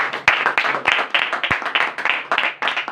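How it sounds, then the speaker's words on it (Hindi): A small audience at a religious talk claps for a speaker in a brief burst of sharp, close handclaps, with distinct individual claps repeating in a quick, uneven rhythm. "तो मैं चाहता हूं सिस्टर के लिए एक बार जोरदार ताली।"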